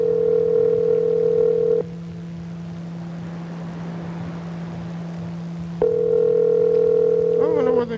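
A telephone line tone plays steadily while a call to a relative goes unanswered, breaks off into a low hum for a few seconds, then resumes, with brief warbling tones near the end.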